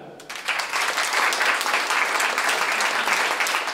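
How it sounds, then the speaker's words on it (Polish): An audience claps loudly for the third-place singer at a sung-poetry vocal competition, with a brief quiet moment before steady, vigorous applause sets in and continues. "Duże brawa."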